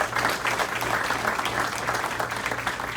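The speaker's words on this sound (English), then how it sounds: "We'll give him a round of applause while he's walking up here." Steady applause from an audience at an Elks lodge awards ceremony as a longtime member and former treasurer walks up to receive an award, continuous moderate clapping across three seconds.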